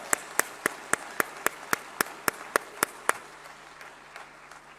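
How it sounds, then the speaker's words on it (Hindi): Clapping at an awards ceremony comes as a dozen sharp, evenly spaced claps at a quick, steady beat, close and distinct rather than a crowd's roar, then stops, leaving a quiet room. "एक बार फिर से तालियां"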